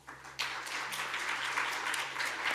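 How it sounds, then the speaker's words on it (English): Applause breaks out suddenly from the audience at an international parliamentary research seminar, a dense steady wash of clapping heard from a distance. "Warm applause."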